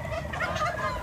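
Several domestic turkeys gobble together in a short burst while being fed grass and leaves, a warbling, rattling chorus heard close and fairly loud.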